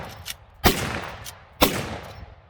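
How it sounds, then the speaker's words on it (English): Two loud, sharp rifle reports about a second apart come from a lever-action rifle with a muzzle brake firing full-power loads, each one followed by a short rolling echo outdoors. "Now we're going to show a couple of shots with the brake with some full house loads."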